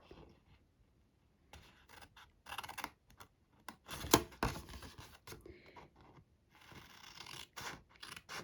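Paper card being cut with scissors in a quiet room: a series of crisp snipping and sliding cuts in bursts, close and fairly soft, with one sharper snip midway and no talking.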